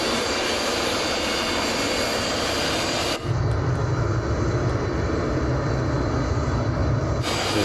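A Vautour IIN jet in Microsoft Flight Simulator rolls for takeoff at full throttle, a loud continuous roar and hiss that deepens and grows heavier partway through, then thins near the end; no talk.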